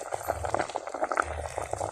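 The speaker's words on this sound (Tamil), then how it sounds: "பார்த்தீங்களா அப்படி கொதிக்குதுங்க" A pot of Tamil village fish curry made with seela fish bubbles and simmers steadily, with soft popping and gurgling bursts close by and no voices.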